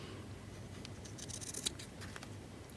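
Scissors snip through fabric corners for an Easter bunny fabric collage junk journal cover, soft close crunches against a faint steady background hiss, with one sharper cut standing out.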